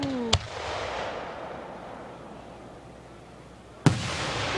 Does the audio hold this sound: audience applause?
no